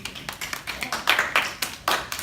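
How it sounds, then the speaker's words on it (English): A classroom gives a round of applause, uneven bursts of hand clapping from a small group of students, close and moderately loud. "Round of applause for him."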